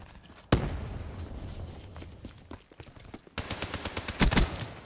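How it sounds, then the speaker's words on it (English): Shotgun blasts ring out in Call of Duty: Black Ops III free-for-all multiplayer. One sharp, loud shot comes early, then a tight run of rapid reports and a heavy double blast near the end. "Get off me with that shotgun, bro."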